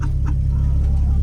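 An old farm truck with 300,000 miles on it drives along, its engine giving a steady, close, low chugging hum for a brief moment.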